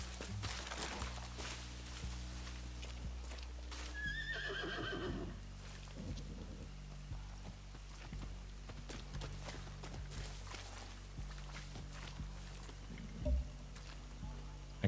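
Horses neigh and whinny in woods in the Far Cry 6 video game, with clip-clop hooves and footsteps and a faint low hum beneath.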